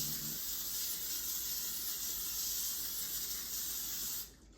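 A steady cooking-spray aerosol hisses continuously onto a baking sheet for about four seconds, then cuts off abruptly.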